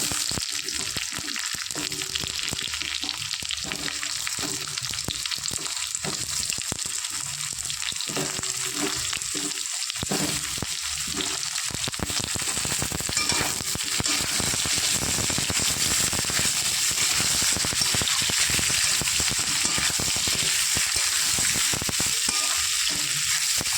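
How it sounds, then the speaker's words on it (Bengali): Potatoes frying with lightly browned onions in hot oil in a pan, giving a continuous dense crackling sizzle that stays loud and steady throughout, close up with no talking. "হালকা লাল করে পেঁয়াজ ভেজে নিয়েছি এবার দিয়ে দেবো আলু"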